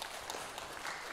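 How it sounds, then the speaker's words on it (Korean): A church congregation at a Sunday service in Berlin claps in welcome, a dense steady round of applause filling the room for a little over a second. "우리 박수로 환영하겠습니다."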